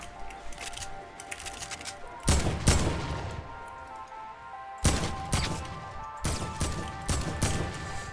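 A Heavy Assault Rifle fires in Fortnite in separate bursts of sharp, close shots with pauses between them, over faint background game sounds.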